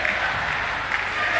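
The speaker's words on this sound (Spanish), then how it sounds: "El hincha de Cerro hace sentir eso con los aplausos" Cerro Porteño supporters applaud in a Paraguayan league stadium as their team wins 3-0 over Sportivo Luqueño, a dense, steady wash of clapping from a large crowd lasting only a moment.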